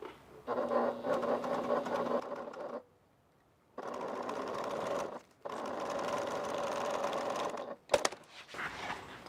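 A sewing machine stitches a faux leather bag in several steady runs, with a short pause after the first and another brief gap before a final burst, loud and close with no talking.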